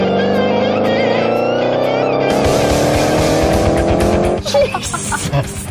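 A Dodge Challenger SRT8 engine of nearly 600 horsepower roars and climbs steadily in pitch as it accelerates hard toward 124 mph, then shifts to a rougher, louder rush.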